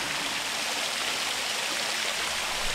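A splashing water fountain gives a dense, steady patter and hiss, close and continuous, with no voices over it.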